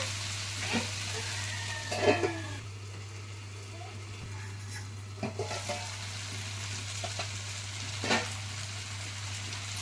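Ridge gourd curry with curd simmers in a pan over a medium flame, giving a soft, steady low sizzle with occasional quiet stirring scrapes and a faint constant hum underneath, no talk.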